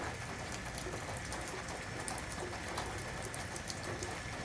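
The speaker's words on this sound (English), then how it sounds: "it's raining heavily today" Heavy rain pours outside a guest room with a deck at Asan Kotonami in Manno, Kagawa, Japan, as a dense, steady hiss with scattered drop patter and no speech.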